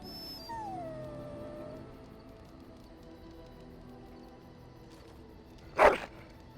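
A dog in the Dragon Age: Origins video game gives a faint, drawn-out falling howl early on, then one sharp, louder bark near the end against low ambience.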